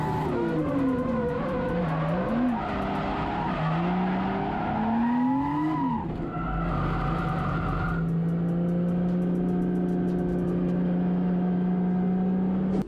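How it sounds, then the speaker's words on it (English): A car drifting with the handbrake gives out long tire squeals that rise and bend in pitch over a steady engine drone, loud and continuous throughout, with no talking. "use the handbrake to slow yourself way down"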